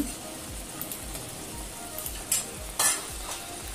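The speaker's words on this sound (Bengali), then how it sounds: "এখন এই মশলার মধ্যেই আলুগুলি দিয়ে দিলাম। আলুগুলি এখানে সেদ্ধ হবে।" Potatoes and whole onions cooking in a spice masala, a steady frying sizzle with rhythmic stirring scrapes and a couple of sharper bursts of hiss, close and fairly loud with no talk.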